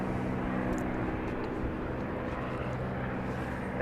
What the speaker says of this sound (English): Well, how about another takeoff?